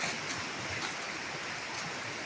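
A strongly flowing village river after rain gives a steady, broad rushing wash of water throughout, close and constant with no speech.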